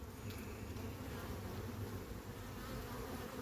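Honeybees working at a hive entrance, coming and going, make a steady, dense, close buzz that holds evenly throughout with no voices.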